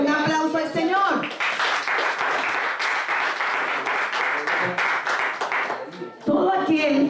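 A church congregation claps together in steady, dense applause for several seconds, with a voice speaking over the start and end.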